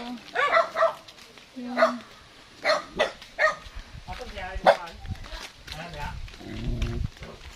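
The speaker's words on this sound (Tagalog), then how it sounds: "Ayan yung mga aso nila." A pack of dogs kept by a household in the mountains barks in a string of sharp, nearby bursts spread over several seconds, with people talking around them.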